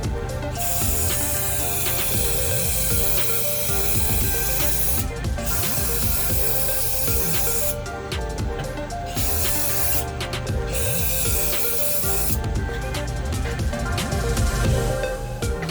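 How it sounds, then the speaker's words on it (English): Aerosol can spraying gloss black Plasti Dip peelable paint: steady close hissing for long stretches, broken by a few short pauses between passes. "going to spray the last spray of the gloss black"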